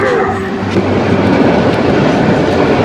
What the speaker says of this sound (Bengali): এই যে আরেকটা ট্রেন যাচ্ছে, এটা কমলাপুর যাচ্ছে